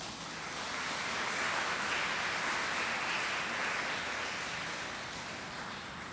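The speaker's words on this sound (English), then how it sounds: "Could we give the parents, our guardians and benefactors, a big round of applause?" An audience at a Philippine Women's University capping, pinning and candle lighting ceremony applauds, a broad, even wash of clapping that swells and holds for several seconds, heard from a distance across a large hall.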